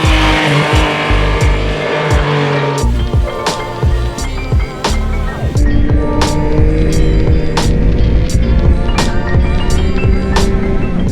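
A steady, throaty growl from a 2022 Yamaha XSR900 motorcycle with a rising and falling induction drone, loud and close, with sharp clicks and rattles over it and no talking.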